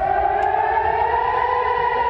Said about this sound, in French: Voilà des sirènes qui ont retenti toute la nuit dans de nombreuses villes israéliennes